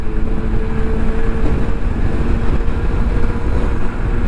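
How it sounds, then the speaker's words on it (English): A steady, droning artificial exhaust tone from a 2021 Revolt RV400 electric motorcycle in sports mode hums continuously and loudly, with a constant low rumble and no speech. "I love the artificial exhaust sound of this bike"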